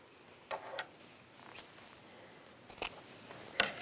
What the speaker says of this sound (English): So I've snipped my fabric about half an inch to an inch away from the edge here